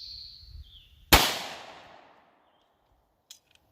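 A single sharp 9mm pistol shot with a heavier bullet cracks loudly and decays over about a second, preceded by faint high electronic tones and followed by a couple of small metallic clinks.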